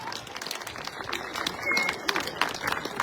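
A crowd at an outdoor political rally applauds with dense, steady clapping and scattered cheers, a broad wash of sound running for a few seconds.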